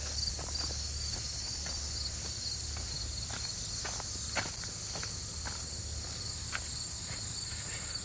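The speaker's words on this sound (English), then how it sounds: "You guys should be able to hear the cicadas." Dense, constant high-pitched cicada buzzing fills the air on a walk in northwest Washington, DC, with faint crunching footsteps underneath.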